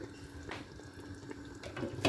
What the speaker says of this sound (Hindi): पानी मैंने इसके अंदर थोड़े थोड़े